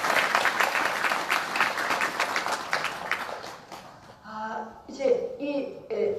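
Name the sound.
audience applause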